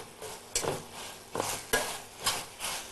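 A spoon stirs chopped parotta with soy sauce in a pan, giving four or five scraping, sizzling strokes in an uneven rhythm, close and moderately loud with no talking.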